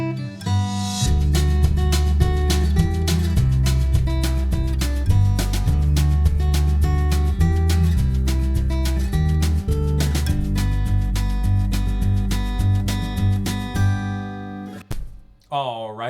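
Bass guitar line with a Superior Drummer 3 kick drum sidechained to it, steady pumping beat playing loud and continuous before cutting off abruptly near the end.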